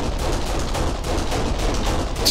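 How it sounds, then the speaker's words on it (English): Blind-fire gunshots from cover in the video game Kane & Lynch: Dead Men, a dense, loud burst of continuous rapid gunfire filling the whole moment without pause. "That's blind fire, alright."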